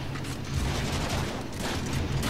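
Dense, rapid gunfire rattles continuously from a weapon in the video game Warframe, loud and unbroken, with no talk over it.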